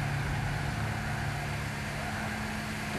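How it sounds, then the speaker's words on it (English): A Toyota MR2 car engine in the racing game Gran Turismo 6, a steady mid-pitched drone holding at constant speed, moderately quiet and continuous with no voices. "Sounds like an MR2."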